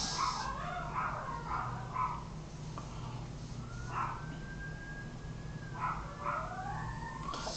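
Several dogs bark in loud, repeated bursts at around a two-second spacing, fairly close, with a thin rising siren-like whine drifting behind them and no talking.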